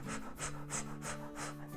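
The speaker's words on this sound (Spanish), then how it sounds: "el jadeo este que muchas veces oímos de" Rapid, shallow panting breaths demonstrated as a childbirth breathing technique, about six quick rhythmic puffs in under two seconds, close and clear with no talking.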